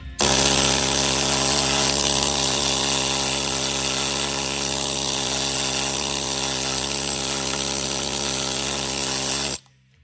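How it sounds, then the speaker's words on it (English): A pneumatic needle scaler hammers flux core welds clean, making a loud, continuous buzzing rattle close by that runs without a break and cuts off abruptly at the end. "I call it a descaler, but basically, if you're getting flux core off, it works great."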